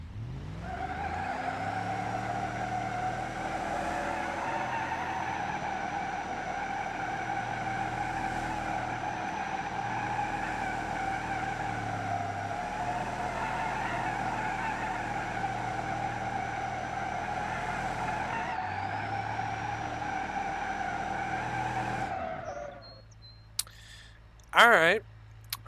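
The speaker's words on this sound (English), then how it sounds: "let's see how well this thing does burnouts" A turbocharged Roamer in BeamNG.Drive does a burnout, a loud sustained engine roar with squealing tires held steady for over twenty seconds, briefly dipping and recovering, before cutting off abruptly near the end.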